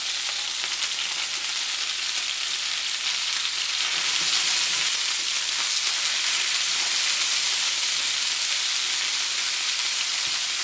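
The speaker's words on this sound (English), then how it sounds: "Kind of cook the onion a little bit." Onion and lemongrass fry in a pan with a dense, continuous sizzle that holds at an even, fairly loud level throughout, with faint stirring underneath.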